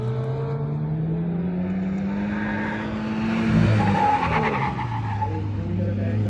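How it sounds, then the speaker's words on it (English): A 2020 Subaru WRX squeals its tires through an autocross run, a loud sustained engine drone with a long sliding screech rising and falling as the car corners, heard from close by. "lot more ABS activity and tire squealing."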